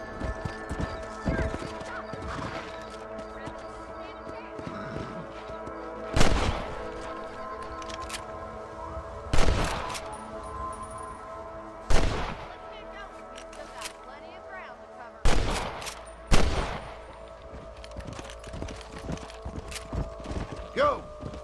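Several sharp rifle shots ring out at irregular intervals in the Western video game Red Dead Redemption, each a loud crack with a short echoing tail, amid horse hooves, whinnies and speech.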